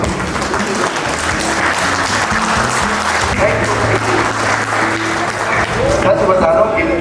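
Sustained crowd applause at a motivational sales training event, a dense wash of clapping that holds steady for several seconds, with low tonal background hum beneath.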